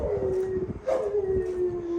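Dogs howling in a sustained, wavering tone that rises and falls, close and fairly loud, with a few yips breaking through and no talk.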